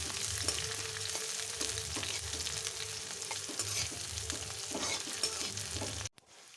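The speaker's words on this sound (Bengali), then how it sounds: "হালকা করে আমি পেঁয়াজগুলো নাড়াচাড়া করে নিচ্ছি যতক্ষণ না বাদামি ভাব আসছে পেঁয়াজের" Sliced onions fry in a pan while being stirred until browned for an egg curry with whole coriander leaves; a steady close sizzle runs under repeated scraping strokes, then cuts off abruptly near the end.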